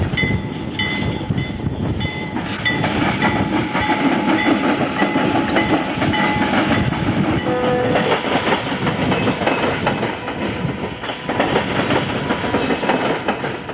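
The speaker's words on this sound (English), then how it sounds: "C36-7 number 9044 leads a long string of them northbound across the diamond." A Union Pacific C36-7 diesel locomotive hauls a long string of RoadRailers northbound over a railroad diamond, with loud, continuous rumbling and steady clickety-clack of wheels striking the crossing rails, faint horn-like tones early on.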